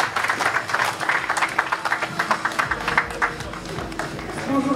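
Festival crowd at a local fête applauding a pageant contestant, a dense sustained clatter of many hands, loud and close, with scattered voices and a low rumble underneath.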